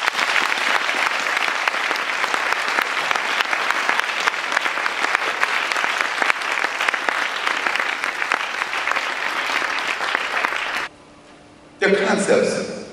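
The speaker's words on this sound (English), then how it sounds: "I want you to clap again." An audience claps loudly and steadily at a seminar event for about eleven seconds, then stops abruptly. A brief burst of noise follows at the end.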